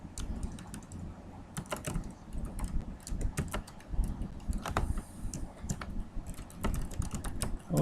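Typing on a computer keyboard while filling in a website sign-up form: quick, uneven key clicks run continuously at close range, with brief gaps and occasional heavier taps.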